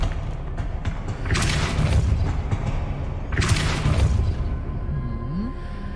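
Casting Depulso in Hogwarts Legacy sends out two whooshing, booming pushes over a low rumbling game soundscape, each a roaring surge lasting about a second, followed by a brief rising chime.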